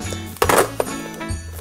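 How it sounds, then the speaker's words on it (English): A Contempora telephone handset slammed down in anger, giving a sharp clattering clack followed by a second lighter knock, with a faint ringing clink after. "That's when you hang up angry."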